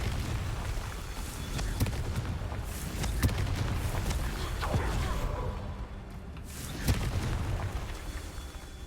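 Repeated blasts of the Confringo fire spell in Hogwarts Legacy boom through a dense, rumbling game soundscape, with sharper bursts near three and seven seconds over continuous low roar.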